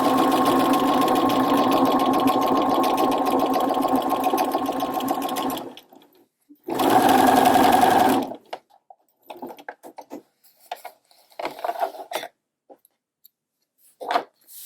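A sewing machine fitted with a narrow hemmer foot hems a seam in one long, steady, close run, stops, then gives one brief burst, followed by small handling clicks and taps.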